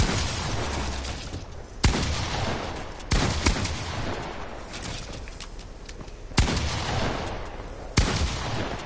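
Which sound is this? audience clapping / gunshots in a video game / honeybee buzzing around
gunshots in a video game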